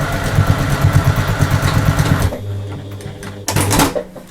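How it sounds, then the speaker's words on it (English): A sewing machine stitches a quarter-inch seam across the raw edge of a woven fabric pouch. A close, fast, even mechanical whir runs for about two seconds and stops, then a short burst of handling noise follows with no talking. "So you're just going to stitch 1/4 of an inch across that"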